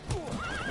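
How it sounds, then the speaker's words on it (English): A horse in The Witcher 3 video game gives a short, close whinny with rising and falling pitch, alongside faint hoof clip-clops. "Did I just punch a horse?"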